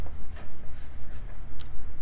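Pen scribbling quickly on paper, filling an area in black for a Sharingan drawing, in close, rapid rhythmic strokes with short scratchy bursts throughout.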